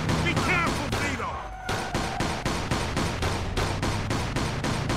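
Rapid bursts of gunfire in a Mafia II shootout, sustained repeated shots with a brief lull, mixed with game sound and voices talking over the action.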